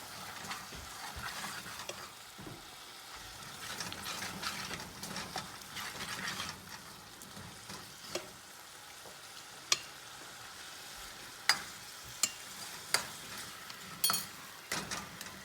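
A spoon stirs and mixes a frying chole spice mix with tamarind paste in a pan, giving a steady soft sizzle with scraping strokes and a few sharp clicks of utensil against the pan toward the end, no talking.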